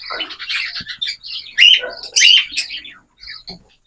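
Cockatiels call in a string of bright, clear chirps and tweets close by, with two louder squawking bursts midway and a few softer calls near the end.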